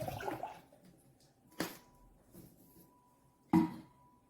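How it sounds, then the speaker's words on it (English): A liter of milk is poured into a cooking pot for Spanish torrijas, giving a faint liquid gush at the start and two short splashing bursts later, with quiet stretches between. "So we're going to put the liter of milk"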